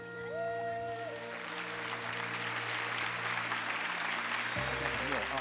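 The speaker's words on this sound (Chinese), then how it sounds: "掌声吧，今天的主角是他们" Audience applause at an awards ceremony in Shanghai for a children's dance performance, steady clapping rising over fading stage music with sustained tones, a new musical cue entering near the end.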